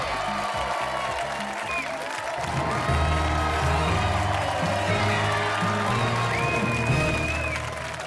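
Studio audience on a French television game show applauding loudly, sustained clapping and cheers over a thumping music bed that carries on throughout.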